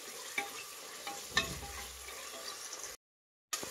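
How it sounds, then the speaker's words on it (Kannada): Peeled hyacinth beans and tomatoes fry in oil, a steady close sizzle broken by a few sharp stirring scrapes, then a brief drop to silence before the sizzling returns. "ಟೊಮೆಟೊ ಒಂದು ಸ್ವಲ್ಪ ಸಾಫ್ಟ್ ಆಗಬೇಕು, ಅಲ್ಲಿವರೆಗೂ ಫ್ರೈ ಮಾಡಬೇಕಾಗುತ್ತೆ ಎಣ್ಣೆಯಲ್ಲಿ"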